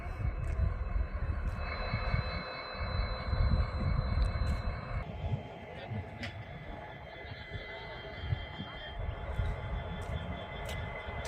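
A train rumbles steadily with deep low noise and a faint tonal whine, continuous throughout, no voices standing out.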